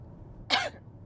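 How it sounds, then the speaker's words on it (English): A single sharp cough inside a Tesla while driving, close and fairly loud, standing alone against a quiet background. "Sorry for the cough, viewers."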